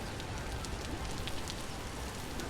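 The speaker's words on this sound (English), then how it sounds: "so far the rain in this area I don't think is going to let up anytime soon" Steady rain hisses down in Vintage Story, a faint, even wash of patter with no pauses.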